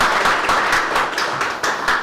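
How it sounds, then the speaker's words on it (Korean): Lecture audience applauding, a steady wash of many hands clapping together at close range with no talk, sustained evenly for about two seconds. "너무 좋은 질문인데 박수 부탁드립니다."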